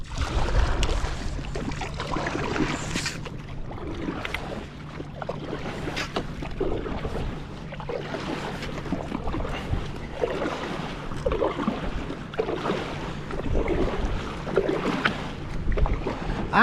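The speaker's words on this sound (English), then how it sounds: "I'm just trying to move the boat like this to see if it flips me" A Wilderness Systems iATAK 110 inflatable drop-stitch fishing kayak rocks and is paddled on open water, with soft sloshing and splashes over steady wind noise and a low continuous hum, no talking.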